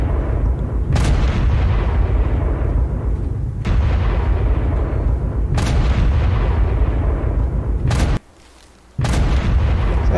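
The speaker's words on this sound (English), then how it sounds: "all I could hear was loud explosions" Loud explosions in the game Ark Survival Evolved boom one after another at irregular intervals over a constant rumbling din, with a brief drop to near silence before the blasts resume; no talk.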